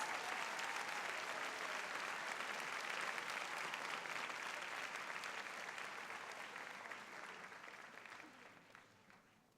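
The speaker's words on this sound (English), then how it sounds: "Another round of applause for Dr. Deborah Turner." A graduation ceremony audience applauds in a sustained, even wash of clapping that starts full and gradually fades toward the end, with no talk over it.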